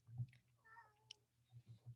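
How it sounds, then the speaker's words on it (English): A pet cat lets out a single short, faint meow indoors, close to a microphone over a low hum, with no talk during it. "My cat wants to be on the call."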